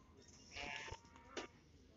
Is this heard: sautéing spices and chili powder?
no